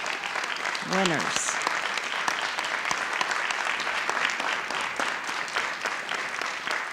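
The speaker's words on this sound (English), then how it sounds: "let's give these students and their parents and all my helpers a special round of applause" Steady applause from a crowd at a school district board meeting fills the whole stretch, with a voice speaking briefly near the start.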